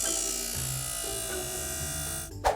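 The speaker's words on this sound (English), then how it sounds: "We can take it out to the garage to let it have a wrestling match with a grinder." A power grinder smoothing a dried glued base in a garage, a steady close electric whine with shifting pitch as it bears on the workpiece, ending with a brief sharp scrape.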